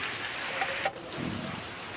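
Rain falls on a garden where ginger beds are being made, giving a soft, even patter and hiss throughout with a brief lull near the middle.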